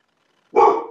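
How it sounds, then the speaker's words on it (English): A single loud, close dog bark sounds abruptly indoors out of silence and fades over a fraction of a second. "I'll lock you up if you bark again."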